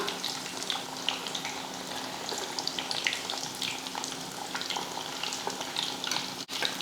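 Masala-coated fish pieces fry crisp in hot oil, a steady close crackling sizzle with faint occasional stirring and a sharp knock near the end, no talk.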